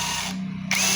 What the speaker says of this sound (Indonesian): satu kelemahan juga yang dimiliki pada bor ini, yaitu tentunya pada saat triggernya ditekan lambat ini